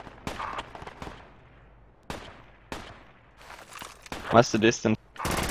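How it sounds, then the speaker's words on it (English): Gunfire in the video game Project Reality: several sharp, separate shots crack out at irregular intervals, some close and loud, others fainter with echoing tails, while a person speaks near the end. "we're getting shot at. Someone is firing from 300."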